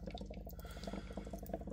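Air bubbler bubbling in a salt, vinegar and peroxide solution, a faint continuous burble of small rapid pops and gurgles, steady throughout with no voices.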